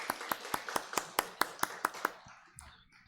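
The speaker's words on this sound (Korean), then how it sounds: "우리 박수로 좀 환영하도록 하겠습니다" A church congregation at a Sunday service claps in welcome for a young primary-school child, about a dozen crisp, evenly spaced claps tapering off before a brief soft rustle.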